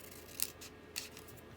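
Two quick, crisp snips of scissors trimming a book page, close and quiet, spaced about half a second apart.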